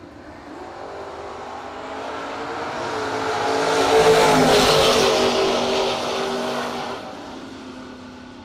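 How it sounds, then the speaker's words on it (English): A wagon and a Camaro launch side by side at a no-box drag race, engines roaring as they swell from a rumble to a loud, sustained peak and fade down the track. "Chucky, Summit Side in the wagon on a 655. Stevens on a 650 in the Camaro."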